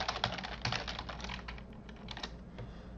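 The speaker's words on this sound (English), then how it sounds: "you're going to type in the entire professional domain email." An email address being typed on a computer keyboard: a rapid, uneven run of close, quiet keystrokes with no voices.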